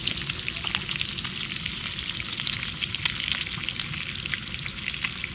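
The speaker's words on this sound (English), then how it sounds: "I'm going to make some bacon and eggs" Bacon and eggs fry on a camp stove at a Lake Skinner campsite in Winchester, California, giving a steady, loud, close sizzle and crackle without pause.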